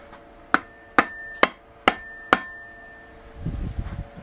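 Five sharp, evenly spaced hammer blows ring out close by as an axe head is driven onto its bent hewing handle, each strike with a bright metallic ring, followed by a brief shuffling rustle.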